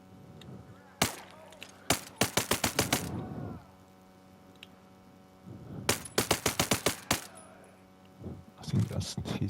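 Rifle gunfire in the video game Ghost Recon Breakpoint: several rapid bursts of sharp, loud shots, a long volley, a pause, another rapid string, then scattered shots near the end, over a low game ambience.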